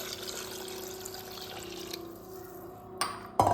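Water trickles and gurgles as it is poured into a pot of rice and karamani for a one-pot rice dish, a soft, low-level liquid stream with a few brief clinks near the end.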